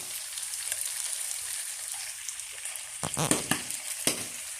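Fat renders out of meat frying in a pan, giving a steady, close crackling sizzle with scattered pops and a few louder spattering bursts near the end, without talk.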